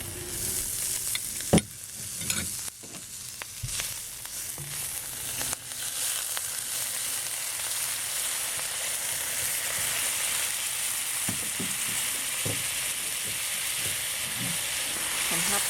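Sauce poured into hot chili oil with mushroom, green onion and red pepper sets off a loud, constant hiss and sizzle, with a few sharp clinks of a spoon against the pan early on.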